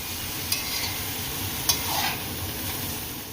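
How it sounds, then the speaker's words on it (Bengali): Vegetarian Malabar spinach chachchari with salt and turmeric is stirred in a pan, giving a soft, steady sizzle with scraping movement and two sharp utensil clinks against the pan. "এখন লবণ হলুদ দিয়ে ভালো করে চচ্চড়িটা ভালো করে সিদ্ধ করে নেব। ভালো করে নাড়াচাড়া করতে হবে।"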